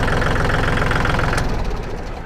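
A 2018 Kubota L4018 tractor engine idling close by, a steady loud low chugging rumble with rapid regular knocking, easing slightly softer toward the end.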